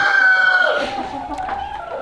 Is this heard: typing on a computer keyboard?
no